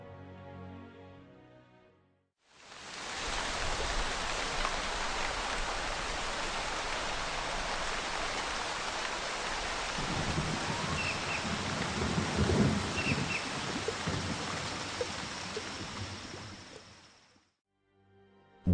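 Steady rain pours down, a constant hiss that starts abruptly, while a deep rumble of thunder rolls through partway along before the downpour cuts off near the end.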